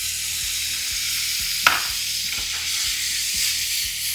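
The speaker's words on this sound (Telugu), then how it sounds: "ఇప్పుడు ఇందులో పన్నీర్ వేస్తున్నాను" Paneer frying in butter and oil in a hot pan gives a steady sizzle, with soft rhythmic stirring taps and a brief sharper clatter partway through.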